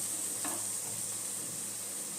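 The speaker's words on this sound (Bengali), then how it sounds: "খুব ভালোভাবে মশলাটা কষানো হয়ে গেছে," Spice paste with green chillies frying in oil for a fish egg curry, a steady faint hiss of sizzling with one soft stir scrape, continuous and unbroken, no talking.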